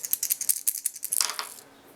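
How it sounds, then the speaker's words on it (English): Dice rolled for a board game, a quick run of bright clattering clicks and rattles that tumble for about a second and a half, then settle into quiet. "Both sides are going to roll the dice"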